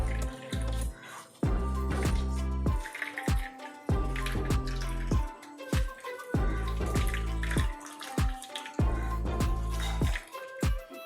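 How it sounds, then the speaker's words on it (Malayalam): Ground coconut squeezed by hand through a juice strainer for jackfruit payasam, with thick coconut milk dripping and splashing into a vessel in repeated squeezes, close and clear, no talking. "അരിപ്പയിലേക്ക് നന്നായിട്ട് അരച്ച് വെച്ചിരിക്കുന്ന തേങ്ങ ഇടുക. നന്നായിട്ടൊന്ന് പിഴിഞ്ഞെടുക്കുക."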